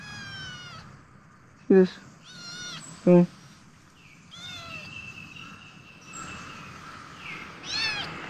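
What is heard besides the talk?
kitten meowing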